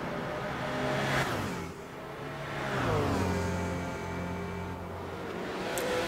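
An LMP prototype race car in Gran Turismo 6 laps the Spa circuit. Its engine note climbs and drops through the gears in smooth, sustained sweeps, loud and steady with no voices.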